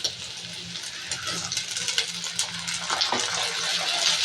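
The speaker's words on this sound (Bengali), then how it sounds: "এখন আমি একটু আদা রসুনের পেস্টটা দিয়ে দিচ্ছি।" Ginger-garlic paste hits a hot frying pan for a dried-fish and greens dish, giving a steady bright sizzle and crackle with a few soft stirring scrapes, close and continuous, with no talk.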